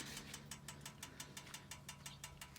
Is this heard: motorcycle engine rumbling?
yes